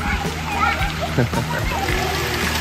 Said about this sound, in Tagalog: Talon po agad ang mga kiddos.